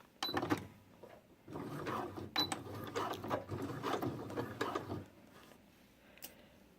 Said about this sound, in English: I'm going to gently grab my machine. I'm going to put the sleeve on there.